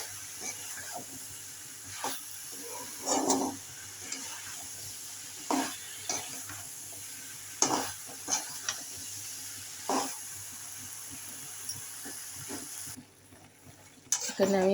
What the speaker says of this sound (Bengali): এখানে আমি ভেন্ডি আলু ভালো করে কষিয়ে নিচ্ছি, জল দিয়ে অল্প অল্প করে